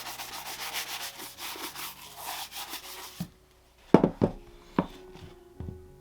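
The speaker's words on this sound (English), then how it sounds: "after these have been conditioned, I'll give them a quick brushing here." Quick brushing of conditioned leather Allen Edmonds Cornwallis shoes: steady scratchy bristle strokes for about three seconds, then a quiet stretch broken by a few sharp knocks and handling taps, close by.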